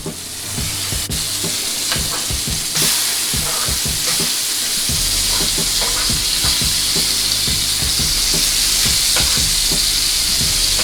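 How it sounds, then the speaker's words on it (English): Shallot, serrano peppers and chopped pineapple sizzle loudly on a grill in beef drippings, a constant bright frying hiss with close spatula scrapes and clacks as the food is stirred, no voices. "I'm gonna be adding the shallot, the serrano peppers, and the chopped pineapple to the grill"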